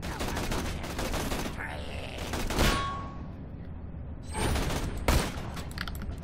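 Rapid gunfire from shooter video game Borderlands: The Pre-Sequel, loud bursts of automatic shots rattling continuously with a few sharper single blasts standing out, alone without talk.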